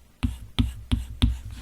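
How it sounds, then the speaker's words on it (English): Four evenly spaced taps and short scratches from an Apple Pencil writing on a Paperlike matte screen protector on a 2020 iPad Pro, crisp and close with nothing else heard. "So if I write on it with the Apple Pencil"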